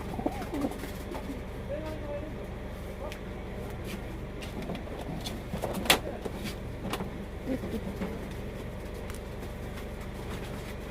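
Racing pigeons cooing softly at night before basketing, faint low coos under a steady background hum with occasional clicks and some speech.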